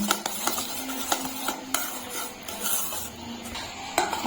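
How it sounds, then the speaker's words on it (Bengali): Sugar, eggs and oil are whisked together in a bowl for pancake batter, a steady run of quick scraping and clinking strokes against the bowl, fairly soft and close, with no talking. "চিনি, ডিম আর তেল একসঙ্গে ভালো করে ফেটিয়ে নিতে হবে।"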